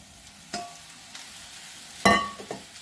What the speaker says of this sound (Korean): 양파를 한번 볶아 보겠습니다.